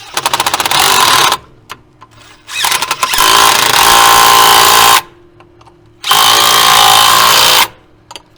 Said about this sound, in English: so I'm going to do it with the impact